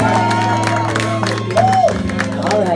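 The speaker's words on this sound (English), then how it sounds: "Having a nice round of applause for John and Carol back here." Patrons in a Nashville jazz club give a round of applause for an anniversary couple, loud clapping and scattered cheers mixed with crowd chatter and a singer's voice over a steady low hum from the room.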